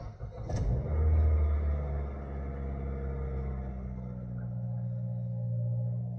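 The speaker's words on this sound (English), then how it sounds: "push the brake and start the car" A Toyota car with an MMT multi-mode gearbox cranks and starts, then settles into a steady low engine rumble that runs on alone at moderate loudness.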